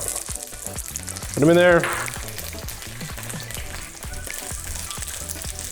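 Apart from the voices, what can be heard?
whole garlic cloves sizzling in hot smoking oil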